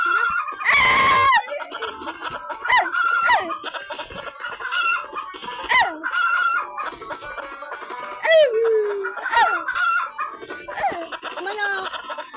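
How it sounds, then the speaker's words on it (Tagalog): Chickens cluck and squawk continuously close by, with a loud burst of screeching flapping near the start and occasional crowing. "Manok! Manok!"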